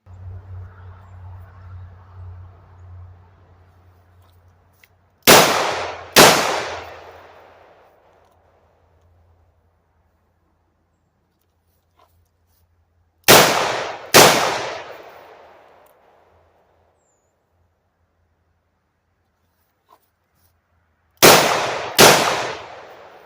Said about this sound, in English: we'll shoot hip point at 5 yards, and then we'll go to shooting with 2 hands at 5 yards